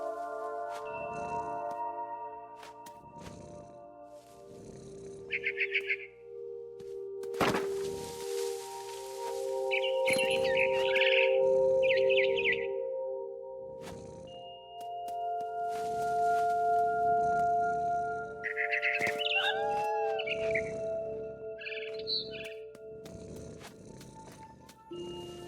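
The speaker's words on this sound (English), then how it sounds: "It was a barn swallow going back to her nest." Short scared chirps from a barn swallow in the video game What Remains of Edith Finch, appearing in a few clustered bursts over a sustained tonal game soundtrack and low ambient rumble.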